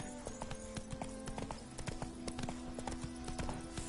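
Roach, a horse in a video game, gallops with a fast, steady clip-clop of hooves close by, over a constant rumbling background and a brief snort or whinny.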